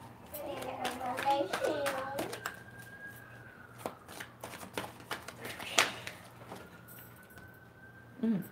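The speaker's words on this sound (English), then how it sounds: "Let me pull a couple cards for you." A deck of tarot cards is shuffled and cards are pulled, giving crisp riffling bursts and scattered light flicks and taps close by, with a voice and other speech briefly audible early on.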